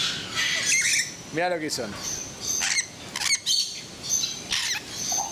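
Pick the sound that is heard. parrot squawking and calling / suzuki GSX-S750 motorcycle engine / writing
parrot squawking and calling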